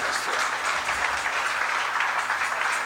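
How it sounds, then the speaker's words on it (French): Steady, dense clapping from a crowd that holds at an even level for a few seconds, with no voices standing out. "On nous applaudit"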